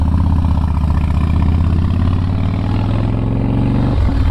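A 2005 Harley-Davidson Softail Springer Classic's V-twin runs steadily up close, a loud, even low-pitched lope that holds constant before a brief change near the end.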